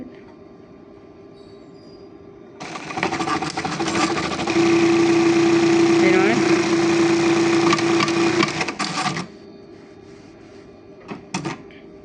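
A Juki LBH-1790 buttonhole sewing machine running with thread trimming, a loud close mechanical whirr lasting several seconds with a steady tone, then stopping and followed by a few brief clacks.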